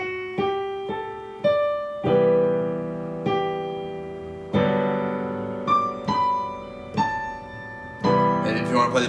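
Solo piano plays the closing section of a song, slow sustained chords under a right-hand melody, each chord ringing and decaying before the next, close and clear with no voices.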